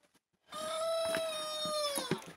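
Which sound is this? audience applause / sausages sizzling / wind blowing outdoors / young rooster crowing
young rooster crowing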